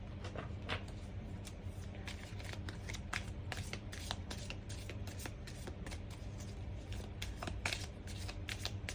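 A deck of tarot cards is shuffled close up, a rapid series of crisp riffling flutters and slaps repeating steadily in a quiet room with no talk.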